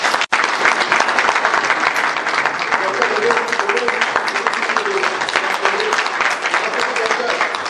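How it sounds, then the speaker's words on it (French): Sustained audience applause fills a drivers' seminar hall for professional chauffeurs in Côte d'Ivoire, dense and steady throughout with faint voices mixed into the crowd noise. "Je voudrais que vous donniez un applaudissement à Dr."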